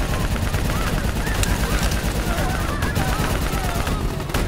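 Sustained automatic gunfire and explosions roar through a firefight in the video game Call of Duty Black Ops 3, dense and unbroken, with shouted soldier voices faintly mixed into the battle.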